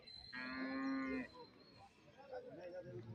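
A single long, low moo from a dairy cow sounds nearby at a cattle market, followed by muffled background voices and farm noise.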